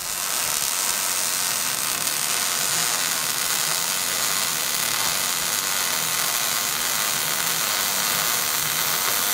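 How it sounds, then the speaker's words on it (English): An angle grinder grinds old paint off metal in a shop, a steady loud high-pitched whine with a harsh abrasive hiss that holds constant throughout, with no pauses or talk. "I gotta grind down because I don't know what's on that for paint"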